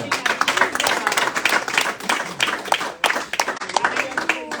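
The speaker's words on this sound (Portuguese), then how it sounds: "Dá um aplauso a Recife" Church congregation applauding, dense clapping throughout with a few louder bursts, mixed with crowd voices and someone talking over it.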